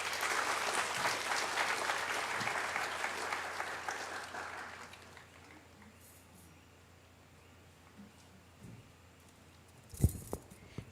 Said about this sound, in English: Another resounding round of applause, please, for our best graduating student.